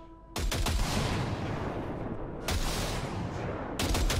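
Sustained burst of gunfire in Cyberpunk 2077 weapon calibration, a loud, continuous rattling volley that briefly pauses and resumes twice, close and harsh with no talking over it.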